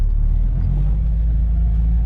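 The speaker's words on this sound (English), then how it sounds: "Car downshifts like it's supposed to." A 1973 Audi 100 LS shifting down while driving, with a steady loud low engine rumble and a slight change in engine pitch partway through.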